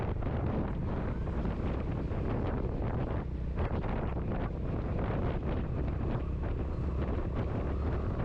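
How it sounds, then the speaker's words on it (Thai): Strong wind roars and buffets the microphone nonstop, a loud, rumbling rush that drowns out everything else. "ลมแรงแล้วด้วยไปครับ"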